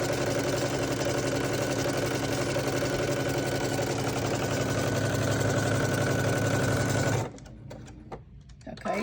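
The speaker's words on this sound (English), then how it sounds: "I'm going to turn the fabric around, and I'm going to sew down this side" A sewing machine stitches fabric with elastic thread in a steady, loud, close mechanical whir that runs evenly for several seconds, then stops abruptly, leaving quiet handling noise.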